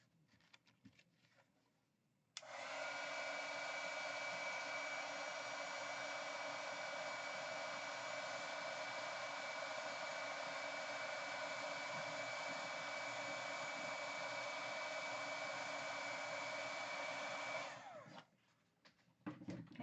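A craft heat tool blasts hot air to melt and set embossing powder on a painted surface, a loud, steady whoosh running continuously for about fifteen seconds, starting and stopping abruptly with no talking over it.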